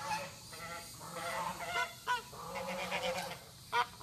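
Backyard geese kept beside a chicken compound honk loudly in a ragged series of overlapping calls, several birds close by, with brief pauses between bursts and no talk.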